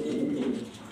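A pair of Jorna satin pigeons gives a brief, low, steady coo close by, one continuous murmuring call lasting under a second.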